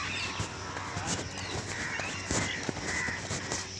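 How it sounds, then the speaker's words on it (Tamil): Crows cawing repeatedly with other birds calling during an early morning walk, several harsh caws scattered across the clip over a faint steady background hum. "இப்போ எல்லா பறவைகளோட சத்தமும் வந்துடுச்சு."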